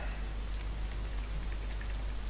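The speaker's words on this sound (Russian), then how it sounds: "Да, дождь мы ненавидим." Steady rain falls in a video game, a continuous soft patter with scattered droplet ticks over a constant low background hum.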